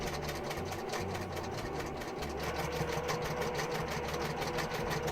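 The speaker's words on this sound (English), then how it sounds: "Put our foot down, and we're going to start on our sewing." A sewing machine runs steadily while stitching quilt blocks, a continuous mechanical hum and rapid needle chatter held at an even level throughout without pauses, with no talking.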